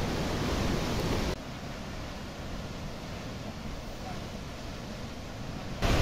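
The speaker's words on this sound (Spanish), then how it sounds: "es estación lluviosa, pues la cascada tiene mucha agua" A large waterfall in El Salvador, full in the rainy season, pours as a dense, steady roar of rushing water, loud and continuous with no talk over it.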